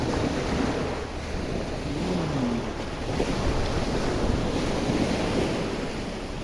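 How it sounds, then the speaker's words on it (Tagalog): Ocean waves roll and wash continuously onto the beach at Boracay while strong wind buffets the microphone, a steady broadband roar with no voices. "Ay sa tunog pa lang ng alon at amoy ng dagat, marirelax ka na at maiinit pa."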